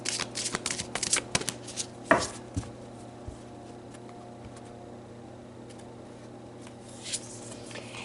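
Tarot cards being shuffled by hand, a few quick papery riffles and flicks up close at the start, then quiet handling with a low steady hum.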